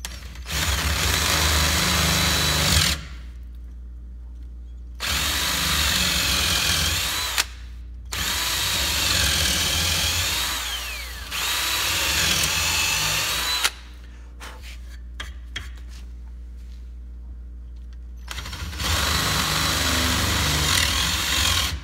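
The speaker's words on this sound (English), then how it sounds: "we're going to see if we can get a straight enough hole in here to drill this through" A power drill bores a hole through wood for a mousetrap car axle in several loud, close bursts of high whining spin, with short quiet pauses and clicks between runs.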